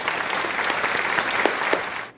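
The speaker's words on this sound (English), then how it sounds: "now let us give ourselves a round of applause" A round of applause during an online Grade 9 physical education class, a continuous busy patter of many hands clapping together, steady and fairly loud before cutting off abruptly at the end.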